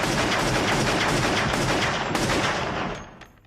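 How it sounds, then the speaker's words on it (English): Sustained rapid gunfire from a shootout scene in the film Pulp Fiction, loud and dense bursts of shots filling the moment, then tapering off near the end with no talk. "before he and Vincent rain vengeance upon Brett with gunfire"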